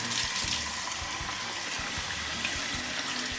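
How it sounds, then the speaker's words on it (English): Water running steadily from a tap to rinse a dirty K&N air filter, a constant splashing hiss with faint low knocks, and no one speaking. "we can go and start rinsing the filter."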